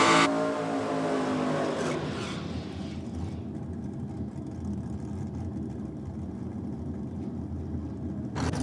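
A Ford Falcon drag race car running nitrous roars loudly at first, then settles into a sustained rumbling drone as it moves away, with a brief burst returning at the end.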